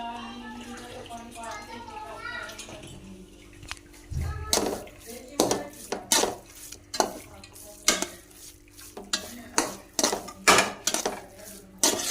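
Carrot halwa being mixed with almonds in a pot, a spoon scraping and clanking against the metal in repeated strokes, with a person speaking at the start.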